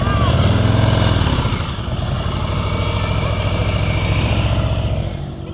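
A motorcycle engine holds a steady, loud low rumble with slight throttle swells during a slow-speed riding practice exercise in Florida, heard up close throughout.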